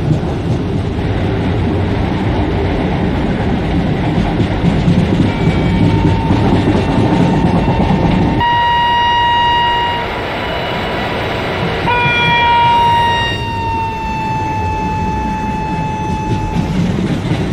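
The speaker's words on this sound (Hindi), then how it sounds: "देखो गाइस बहुत बड़ा है हमारा ट्रेन, लंबा इंटरसिटी एक्सप्रेस अम्बेडकर नगर का इंदौर टू भोपाल जाने वाली" An Indore to Bhopal intercity express running with ICF coaches in a train simulator on a Western Railway route. Loud rolling rumble and clatter come first, then a long, sustained horn blast in layered tones, sounded twice.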